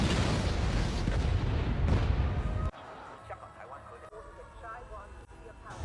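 A heavy explosion of a nuclear power plant factory in the film BL4CKHAT roars with a dense, rumbling blast that cuts off abruptly, leaving a quieter scene where a voice talks.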